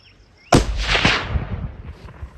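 A single sharp rifle shot from a 338-378 Weatherby loaded with 95.5 grains of Hodgdon 4831 under a Speer Grand Slam bullet, a sudden loud crack followed by a rolling boom that decays over about two seconds outdoors.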